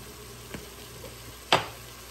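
Onions and other vegetables frying with garlic in a pan, a low steady sizzle broken by a faint knock and then a sharper clatter of stirring, with no voices.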